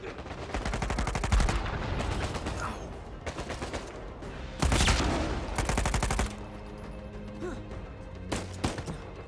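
Bursts of gunfire in the video game Uncharted 4, including sniper shots: several rapid volleys of loud cracks separated by short pauses, with a heavier blast near the middle and scattered thuds afterward.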